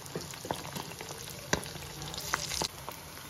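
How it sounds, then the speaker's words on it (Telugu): Salted fish pieces fry in oil over a medium flame, a steady close sizzle with scattered pops and a few sharper crackles or utensil clicks partway through, no voices. "మీడియం ఫ్లేమ్ లో పెట్టి ఫ్రై చేసుకోండి। అటు ఇటు తిప్పుకుంటూ"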